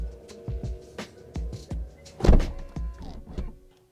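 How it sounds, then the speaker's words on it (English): An electric motor whirs in short pulses with repeated mechanical clicks, then the powered door of a Rolls-Royce Ghost pulls shut with a solid thud. "the ability to shut the door at the push of a button"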